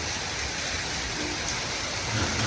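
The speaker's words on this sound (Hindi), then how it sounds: "देखिए बहुत खतरनाक बारिश आ चुकी है। देखिए ओले भी गिरने लग गए हैं।" Heavy rain pours down steadily in a dense, constant hiss, with no clear separate hail impacts standing out, and no talking.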